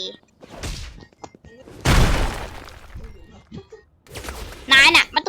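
A burst of crashing, shattering noise from an explosion in a Roblox game bursts out amid shouting voices, followed by more clattering impacts and a loud, harsh blast near the end.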